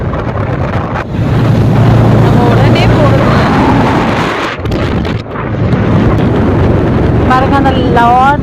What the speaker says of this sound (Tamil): அந்த லாரி நிறைய தென்னாங்க இளநீர் வச்சுட்டு போறாங்க.